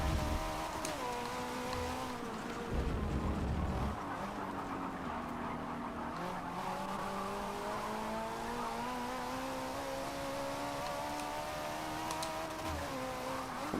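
S Class race car engine in Forza 7 online lobby racing, a continuous close drone rising and dipping in pitch through gear changes, with brief tire scrub and rumble bursts along the way.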